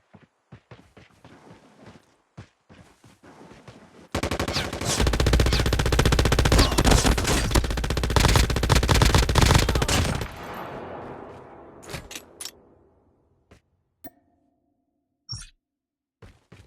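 Sustained rapid automatic gunfire from a weapon in a shooter video game, a loud continuous burst lasting several seconds, preceded and followed by scattered single shots and game sounds.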